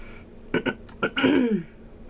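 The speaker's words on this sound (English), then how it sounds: "I'm sorry if I'm clearing my throat." Someone clears their throat with a few short, rough coughs, then a longer gravelly rasp, close and fairly quiet.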